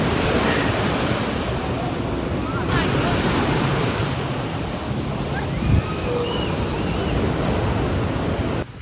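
Heavy surf roars continuously close by at Morong, Bataan, waves crashing with strong wind buffeting the microphone, a dense, unbroken rush of noise.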